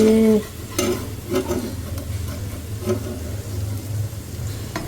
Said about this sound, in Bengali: এই দেখো পেঁয়াজি হচ্ছে